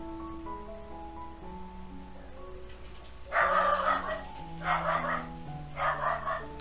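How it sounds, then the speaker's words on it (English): A pet dog barks indoors in three loud bursts, the barks coming in quick clusters after a quieter stretch, while a painting tutorial's background hum and soft tones carry on underneath. "Sorry everyone, my dog is really noisy."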